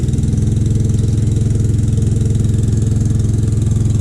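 A Detroit Diesel 16V71 engine with the valve covers off, abandoned in a mine, runs loud and close with a steady, rapid pulsing diesel throb, its rhythm staying even throughout.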